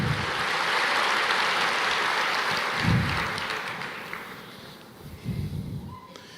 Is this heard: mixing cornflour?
no